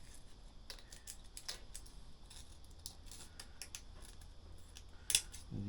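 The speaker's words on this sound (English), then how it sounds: "we get a bit of a mesh and we just cut a little piece" Blunt shed scissors cut a small piece of mesh for a plastic scooter or motorcycle repair, a quiet series of close, crisp snips at irregular intervals with a sharper click near the end.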